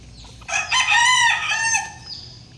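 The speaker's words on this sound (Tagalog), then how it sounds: "Ito kasi kakak na ng kakak, baka ito yung nag-itlog" A hen that has just laid an egg gives one loud, drawn-out, nasal call lasting over a second, close by and alone against quiet background noise.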